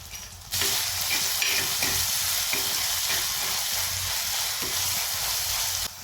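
Chopped onion and mustard seeds frying in hot oil for a fish peera dish: a loud, steady sizzle bursts in after a brief quiet start, with small crackles and spatters throughout.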